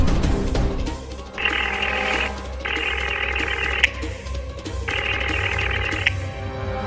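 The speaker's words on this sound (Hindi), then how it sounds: "अभी मैं शारदा जी को फोन करके बता देता हूँ।" An outgoing phone call rings through the earpiece in three long trilling bursts separated by short pauses, with a low background hum and no talking.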